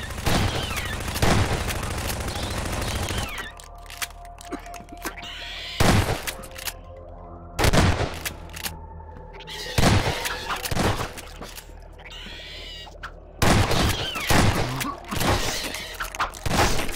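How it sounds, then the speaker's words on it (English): A video-game machine gun fires in long, loud, rapid bursts, opening with sustained fire and followed by several shorter bursts separated by brief pauses filled with game ambience. "This machine gun does so little damage."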